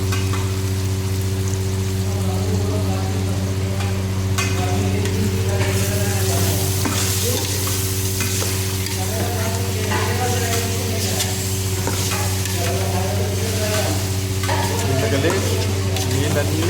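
Chicken sizzles and fries in a pressure cooker pot in a home kitchen, with steady stirring scrapes over a constant low hum; the frying stays loud throughout and nobody speaks.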